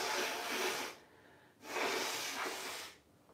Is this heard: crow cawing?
no